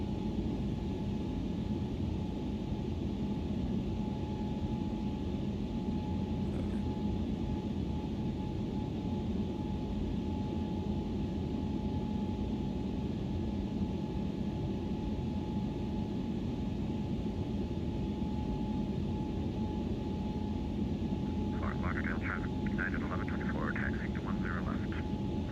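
Steady, loud roar of ToLiss A321neo jet engines at climb thrust in the X-Plane 12 flight simulator, a constant broadband drone with a faint tonal hum, with brief chirpy cockpit sounds near the end.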